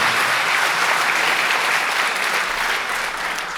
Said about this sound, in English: Asad Khan Sahab, a round of applause, please.